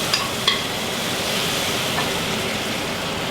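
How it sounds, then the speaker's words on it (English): Bok choy stirred through a simmering fish curry in a pan, a steady wet bubbling and sizzling wash with a couple of soft utensil clicks near the start, close and continuous. "you just stir through to warm up the bok choy"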